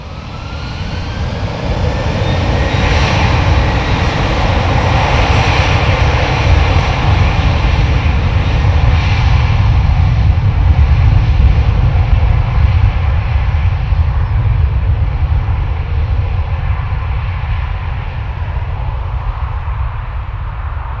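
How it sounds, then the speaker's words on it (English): Aer Lingus airliner engines at Dublin Airport spool up into a loud, steady jet roar that holds for about twenty seconds, broadband and close, with a slowly rising whine layered over a heavy low rumble. "Engine spooling up."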